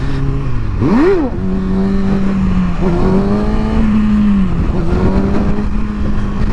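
A Kawasaki Ninja motorcycle engine roars up in a sharp rev for a wheelie on back roads, then holds a loud, close, steady drone at high speed.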